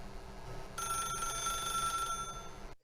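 A telephone rings in a Rec Room recreation of The Stanley Parable, its bright electronic bell starting abruptly after a moment of low room hum and trilling steadily and loudly to the end, with no talk.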